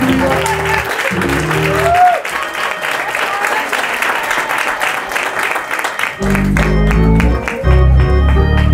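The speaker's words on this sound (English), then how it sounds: "Can we clap our hands and give God praise?" A church congregation claps hands in praise, with steady sustained applause running throughout, partly under music and a voice speaking.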